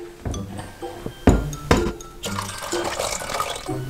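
Water is poured into a pot for Indomie noodles amid clinks of glass and cookware, a few sharp knocks followed by a sustained splashing fill, close and fairly loud with no talk.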